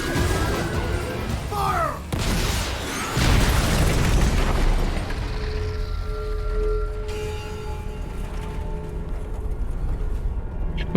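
Bazooka blasts in the game Metal Gear Rising: Revengeance, a sharp booming burst near the start followed by a second heavy explosion with rumbling debris, then tonal game effects and ambience trailing off.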